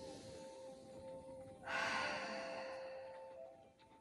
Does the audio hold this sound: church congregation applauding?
no